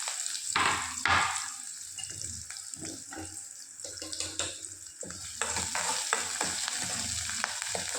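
Onions and curry leaves sizzle steadily in a hot pan for sambar, with close scraping stirs rising above the frying hiss; no one talks.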